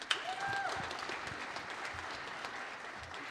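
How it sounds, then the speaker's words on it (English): Audience applauding at a jazz ensemble concert, a steady wash of clapping that holds for the whole stretch with a brief whistle near the start. "Give yourselves a round of applause."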